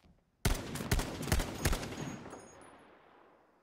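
Gunfire in the Battlefield 5 multiplayer shooter: a sudden burst of several sharp shots in quick succession, then a long ringing decay fading into quiet, with no voices.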